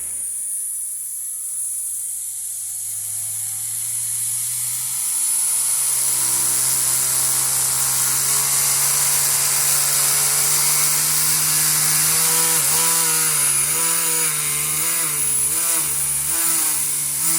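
An NSR Mercedes AMG GT slot car motor spins up from silence into a high, smooth electric whine that climbs in pitch and holds steady, loud and close, with brief surges near the end and no talking.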